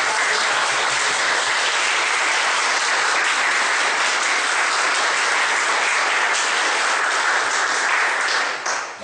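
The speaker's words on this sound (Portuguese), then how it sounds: "Posso pedir assim, que nós aqui da comunidade façamos um grande aplauso aos professores em reverência." A community gathering in Curitiba gives teachers a full round of applause. Loud, dense clapping from a crowd continues without a break and then tails off at the very end.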